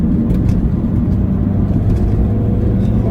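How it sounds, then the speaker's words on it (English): A 2005 Mini Cooper Park Lane's engine drones steadily and loudly from close by under hard acceleration, a continuous low rumble with no talking. "Really nice little engine, really nice little engine. You can hear that engine."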